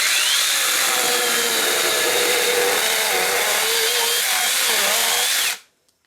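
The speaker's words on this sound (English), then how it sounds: "Now we'll do a plunge cut." A Sainlogic 6-inch mini chainsaw plunge-cuts into particle board, a loud, steady high whine with grinding cutting noise that holds for about five and a half seconds, then cuts off abruptly into silence.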